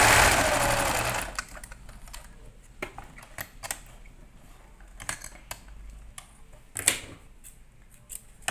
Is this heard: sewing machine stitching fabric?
yes